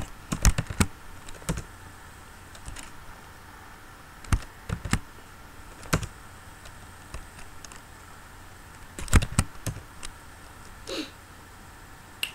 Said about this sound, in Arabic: الان ساكتب FR بالنسبة للكيبورد